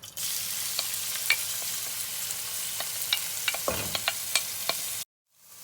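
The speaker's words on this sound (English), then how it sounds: "on high flame, we're going to saute our onions until golden brown" Onions sauteing in oil in a pot over a high flame for chicken tikka masala, a steady close sizzle broken by repeated clicks and scrapes of stirring, ending abruptly in near silence.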